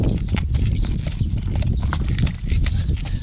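Stallions on a farm walk nearby, their hooves clip-clopping in a steady uneven rhythm of close, loud knocks over low rumbling background noise.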